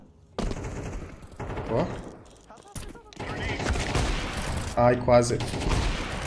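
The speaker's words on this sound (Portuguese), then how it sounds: "Os tiros pegam nesse jogo, galera." Gunfire in the game Counter-Strike 2 comes in sharp bursts of shots mixed with in-game effects, while a player speaks briefly between the volleys.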